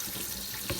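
Cold water running from a kitchen tap while okra is washed, a steady hissing stream with a brief splash near the end, close and continuous.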